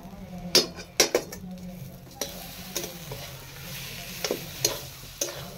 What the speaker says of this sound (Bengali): এইভাবে মশলাটাকে আমি ভাজতে থাকবো।